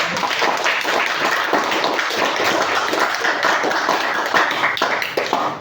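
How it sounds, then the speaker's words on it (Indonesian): Classroom applause fills the room steadily, a dense crowd of hands clapping for several seconds with faint voices mixed in. "Kasih aplaus buat"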